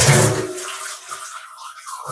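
Peeled banana flower is rinsed under running water, a splashy gush of tap water that tapers off into faint trickles and drips, with no voices.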